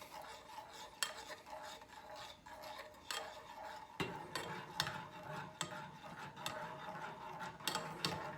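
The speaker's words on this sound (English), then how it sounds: "So we'll give these ingredients a stir." A utensil stirs hot buffalo sauce made with Frank's hot sauce and apple cider vinegar in a pan, giving soft scraping and occasional sharp clinks against the metal, fairly quiet and close.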